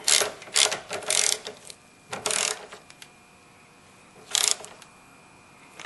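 Quick bursts of ratchet clicks from a wrench tightening a car battery terminal clamp, several short runs of rapid ratcheting with pauses between, close and crisp.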